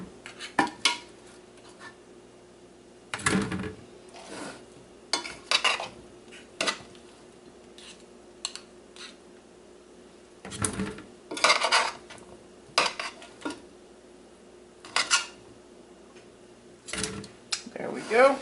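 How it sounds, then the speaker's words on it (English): A metal spoon clinks against a cooking pot while boiled eggs are lifted out, sharp scattered knocks and scrapes at close range, with a soft steady hum beneath and gaps of quiet between clusters. "I just get a spoon and get the eggs out because it's going to be hot"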